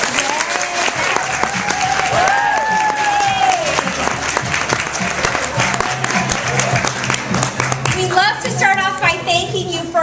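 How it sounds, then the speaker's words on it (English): An audience at an evening event applauds its guests: loud, dense clapping fills the room throughout, with scattered crowd voices and speech mixed into the ovation. "will you just stand so that we can applaud you and thank you appropriately for being with us here tonight?"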